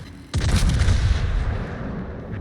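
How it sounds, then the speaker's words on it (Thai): Secondary guns on a warship in World of Warships fire in a single loud, close booming report at the start, followed by a long rumbling tail that slowly fades. "กระสุนปืนรองผมยิงไม่ยั้งเลยฮะ"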